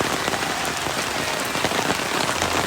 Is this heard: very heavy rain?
yes